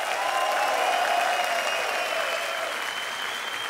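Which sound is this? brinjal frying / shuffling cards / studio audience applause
studio audience applause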